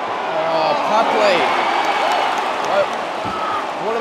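Stadium crowd at the MCG during the 2022 AFL qualifying final between Melbourne and Sydney, a loud, sustained roar filling the background while people nearby talk over it.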